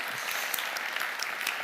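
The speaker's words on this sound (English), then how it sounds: "Bit of applause as well." An audience at an award ceremony gives a brief, faint spatter of applause, heard alone for under two seconds.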